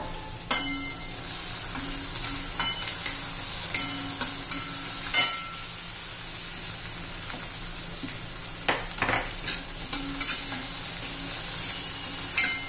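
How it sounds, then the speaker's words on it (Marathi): A chilli, garlic and cumin paste sizzles in hot oil with onion in a pan, a steady loud fry with scattered clinks and scrapes of a spoon against the pan, close by. "मिरची चांगली तेलामध्ये परतून घेऊया।"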